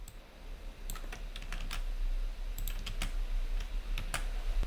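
Computer keyboard typing while entering text for a web page, a steady run of quick clicky keystrokes in irregular bursts, close and fairly quiet over a low hum, with no talking.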